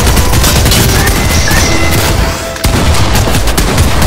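An automated turret in Fortnite blasting away in loud, dense, continuous bursts of gunfire, with booms mixed in and only a brief dip in the barrage.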